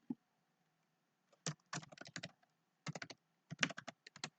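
A username being typed on a computer keyboard, with short bursts of crisp key clicks separated by brief pauses, close and fairly quiet in an otherwise silent room.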